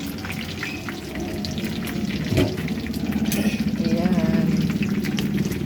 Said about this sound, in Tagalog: Ayan, humukulo ang ating munggo.